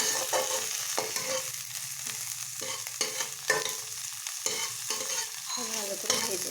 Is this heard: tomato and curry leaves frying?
yes